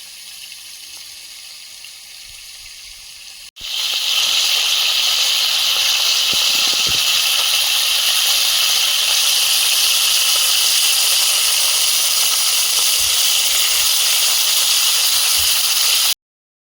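Bhola fish pieces fry in hot oil in a home kitchen, a loud, steady sizzling hiss that bursts in suddenly after a few quiet seconds and carries on unbroken to the end, with no talking.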